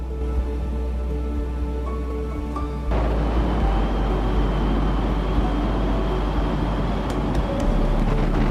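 Camper van driving on a road near Clearwater, British Columbia, a steady low engine and road rumble heard from inside, continuous and fairly loud with a slight shift in tone partway through.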